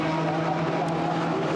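A BMW M4 GT4 race car with a 4-litre V8 engine at Monza, a steady loud engine drone held throughout as it passes.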